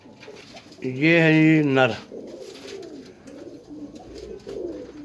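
A teddy pigeon being handled gives one short, close cooing call, followed by someone talking quietly.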